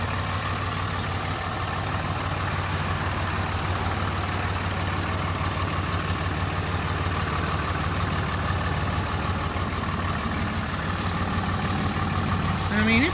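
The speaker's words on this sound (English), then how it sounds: "Real nice sound of the truck." A 2006 Dodge Ram 3500 Laramie 4x4 with a 5.9 liter Cummins diesel idles close by, a steady low rumble with an even, continuous clatter that holds unchanged throughout.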